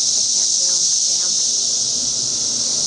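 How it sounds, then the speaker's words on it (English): A dense, loud, unbroken high-pitched buzzing drone of cicadas in the Chicago area, steady throughout, with faint chirps in the background. "Those are the cicadas."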